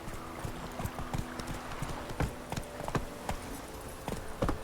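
A horse gallops in the video game Witcher 3, with rapid, steady hoofbeats pounding close and clear over a soft game backdrop.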